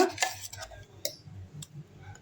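A spoon stirs green gram idli batter mixed with thuthuvalai leaves in a bowl, giving soft repeated scraping clinks and sloshes at close range, with a faint low hum underneath.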